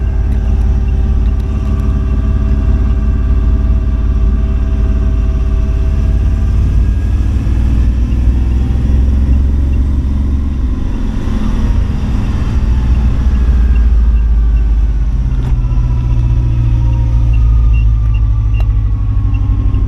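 A car engine under load drones loudly and continuously for about twenty seconds from inside the cabin, with a rough rumble that swells and eases, and no talking.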